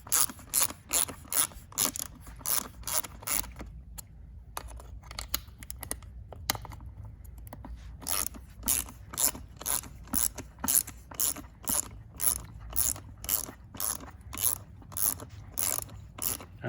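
A ratchet loosens 8mm bolts on a Stihl FS90R trimmer. Rapid, steady clicking bursts repeat close up, pause briefly midway, then resume, with no talking.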